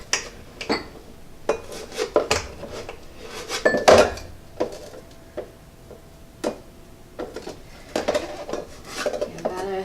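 Light brown sugar packed into a measuring cup for banana oat bread brings scattered sharp clinks and taps of metal against a bowl, irregular knocks spaced apart with quiet gaps between.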